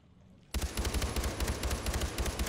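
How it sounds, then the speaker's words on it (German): A magazine emptied in one rapid automatic burst in Far Cry 4, loud and close, starting abruptly after a brief quiet lead-in. "Nur ein kurzes Magazin leer ballern"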